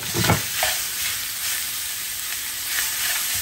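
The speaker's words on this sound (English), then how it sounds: "Pretty much we're going to saute this up, guys, and pretty much render this bacon down" Bacon sizzles and renders in a pot at the start of a collard greens dish, giving a steady crackling fry with a louder burst of spatter and stirring early on, no voices.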